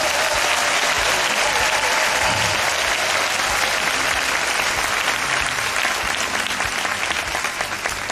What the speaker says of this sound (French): Il faut applaudir pour elle.